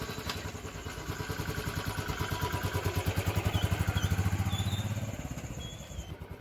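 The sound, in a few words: Royal Enfield Bullet 350 BS6 motorcycle kick-started and idling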